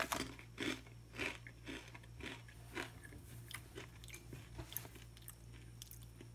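Crunchy Takis corn chips being bitten and chewed, repeated sharp crunches in an irregular rhythm, close and fairly quiet, with no talk.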